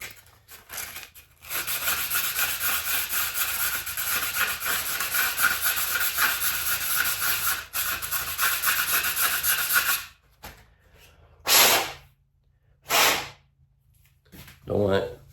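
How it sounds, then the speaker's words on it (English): An arrow insert for a Black Eagle Focus arrow is sanded to fit tightly, producing a long, steady, close rasping scrub, followed by a few short separate rubbing strokes after a pause. "They're designed to be sanded down and fit real tight."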